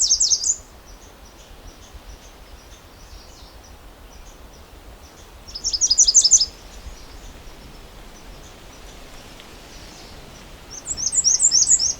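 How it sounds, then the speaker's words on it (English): Three bursts of rapid, high chattering calls from a red squirrel, evenly spaced several seconds apart over a quiet hiss of outdoor background. "A red squirrel also calling behind me."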